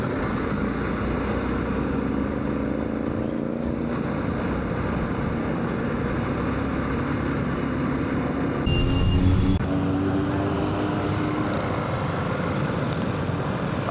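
A BMW G310GS motorcycle rides through morning fog on the way to Lonavala, its engine and wind rush forming a steady, close, continuous drone with a brief louder swell near the end.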